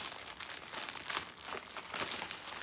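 Plastic packaging from a parcel crinkles and rustles steadily as it is pulled open up close, a dense continuous crackle with no talking.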